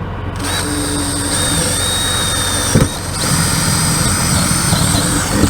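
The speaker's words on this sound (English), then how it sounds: "Well, let's do some drilling, see what we can't find." A power drill whirs steadily and loudly, with a brief pause near the end before the high motor whine resumes, boring into a wall.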